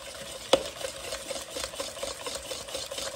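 Kool-Aid powder mixed into a pie filling, soft continuous stirring and scraping in a bowl, close and fairly quiet, with one sharp tap of the utensil early on.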